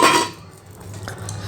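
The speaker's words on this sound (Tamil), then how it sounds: "போட்டு மறுபடியும் ஒரு நிமிடத்துக்கு வந்து நல்லா மூடி வச்சு கொதிக்க விடுங்க" A metal lid clatters onto a pot of boiling water with turmeric in a home kitchen, a sharp clang at the start followed by quieter metallic rattles and faint bubbling.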